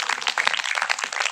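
A church congregation claps loudly together for a short burst of dense, energetic applause.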